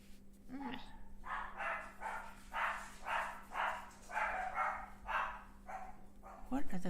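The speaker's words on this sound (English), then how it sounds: "What are those dogs barking at now?" Several dogs bark in a steady run of roughly ten sharp barks, moderately close, with a faint low hum underneath and no talk over them.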